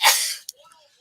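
A single sharp sneeze, loud and close, followed by a brief breathy sniff and quiet aftermath.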